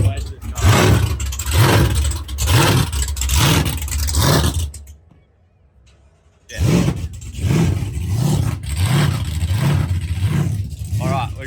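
A Toyota Hilux with an LS1 V8, stock Gen 3 bottom end, ARP rod bolts and a side-mount Vortech supercharger, revs loudly in rhythmic bursts at a burnout event, cuts out briefly, then roars back.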